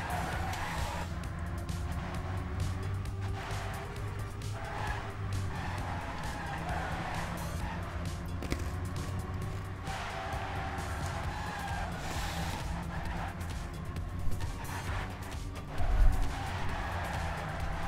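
Race cars in a racing video game drive a warm-up lap, with a continuous engine drone and repeated tire skids and squeals under a faint background of talk.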